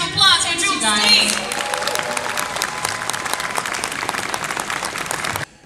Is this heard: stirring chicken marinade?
no